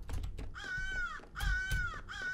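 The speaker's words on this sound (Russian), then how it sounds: "Теперь она в этой комнате каркает." A crow caws in the video game Secret Neighbor, with two long harsh caws in close succession over a steady background of game ambience.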